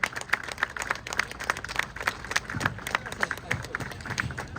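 An audience at a Kabyle Nation Day gathering claps steadily in a brisk, even rhythm, with a low murmur of voices underneath.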